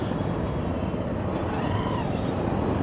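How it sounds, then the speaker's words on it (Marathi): Dense road traffic near the Lower Parel bridge produces a continuous, loud rumbling wash of engines and tyres, steady throughout with no clear individual vehicles standing out. "खूपच ट्रॅफिक होतो."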